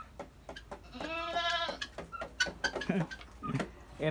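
A goat at a small goat farm gives one loud, drawn-out bleat, with shorter animal calls and farmyard noises around it nearby.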